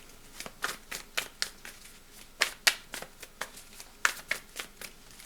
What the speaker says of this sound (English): We're going to shuffle one more time.